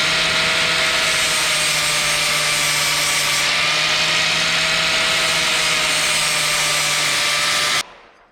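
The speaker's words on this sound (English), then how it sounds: "I'm going to use a grinder again" A grinder works steadily on the bead edge of a sectioned wheel, taking off paint to bevel it, a loud continuous whine with a constant tone that cuts off abruptly near the end.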